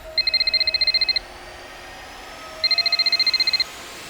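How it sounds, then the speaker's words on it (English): A telephone rings twice close by, each ring a rapid trill of about a second, separated by a pause over a quiet background. "Suddenly, his phone rings."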